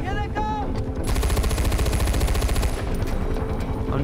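Rapid automatic gunfire in the video game Far Cry 4, a sustained loud rattling burst of shots after a brief opening, with some game sounds underneath and no speech.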